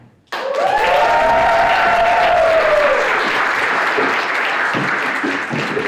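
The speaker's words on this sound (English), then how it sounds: "I want everybody to give another round of applause to Miss Sarah E. Navy" Sustained audience applause at an evening cultural program, a loud steady wash of clapping from a crowd with a few cheers or whoops, rising abruptly and holding for several seconds.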